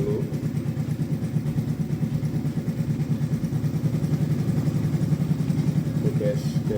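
A cold Honda New Smash motorcycle engine idles just after starting, a steady close low chugging putter with a fast even rhythm, and someone talking over it throughout.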